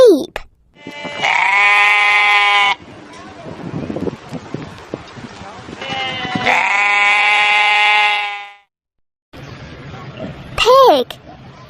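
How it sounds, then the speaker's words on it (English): A farm sheep gives two long, loud, close bleats separated by a stretch of rustling farmyard noise, and a brief voice is heard at the start and near the end. "Sheep."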